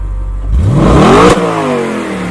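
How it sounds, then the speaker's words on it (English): An Audi RS5 engine revs up hard, pitch climbing steeply over about a second before a sharp gear shift cuts it off, loud and close with no talk. "And you get these more aggressive shifts, more aggressive downshifts and upshifts."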